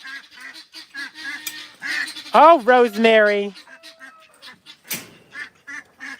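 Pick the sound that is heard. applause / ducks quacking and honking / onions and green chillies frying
ducks quacking and honking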